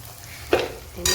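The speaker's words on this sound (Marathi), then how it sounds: "वाटण टाकलं होतं मी याच्यामध्ये तेलामध्ये थोडंसं आपण छान असं की तेल सुटेपर्यंत फ्राय करणार आहे" Ground masala paste frying in oil in a pan, short bursts of sizzling and stirring scrapes, quiet and close, with no talking.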